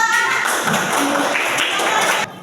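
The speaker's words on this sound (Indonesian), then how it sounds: "Tepuk tangannya semuanya nak" A classroom of primary school children claps together after a presentation, a dense burst of applause that stays close and loud before cutting off abruptly.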